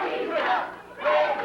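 Arena crowd at a live USWA wrestling show in Evansville yelling and jeering, a loud, massed roar in two swelling waves with a brief dip between, heard close and without other sounds.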